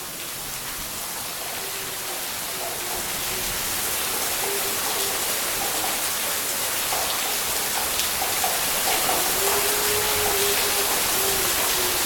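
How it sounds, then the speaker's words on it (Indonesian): Very heavy rain pours down steadily, a dense broadband roar of drops drumming on surfaces that holds at a constant level throughout, with faint tonal sounds flickering underneath and no one speaking. "Hujannya sangat deras sekali, teman-teman."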